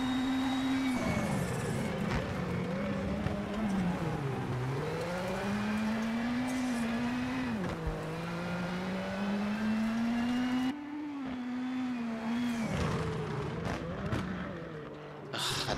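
Rally car engine in WRC 7 at Rally Sweden, loud and continuous, pitch sweeping up and down through repeated downshifts and revs, with a brief cut around eleven seconds before the engine roars back.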